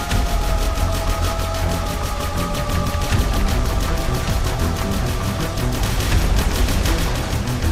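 Steady, dense gunfire in the video game The Esc4pe, with overlapping shots forming a continuous loud fusillade for the whole stretch.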